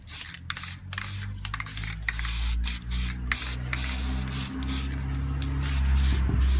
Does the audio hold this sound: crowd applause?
no